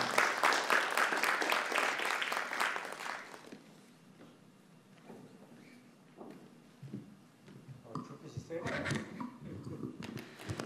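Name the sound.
audience applause welcoming the forum chair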